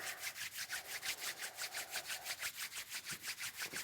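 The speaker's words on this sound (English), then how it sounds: "Just gonna bring the palms together and rub them." Palms rubbing together during a Kundalini yoga core practice: a steady back-and-forth swishing friction, about five strokes per second, close and soft, with no talking.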